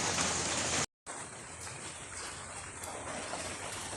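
Steady rain hisses continuously, broken by a brief full silence near the start before the downpour resumes evenly.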